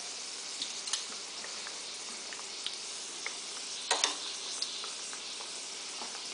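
Salmon beignets fry in hot oil, a steady close sizzle with scattered pops and crackles and a brief louder spatter partway through.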